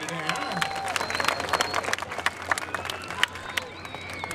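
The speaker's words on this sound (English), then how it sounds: "how about giving Bert a nice big round of applause for what he's going to try for you today?" An audience at an alligator wrestling show gives scattered applause for the wrestler Bert, with light clapping and crowd noise sounding faint and somewhat distant, and voices mixed in.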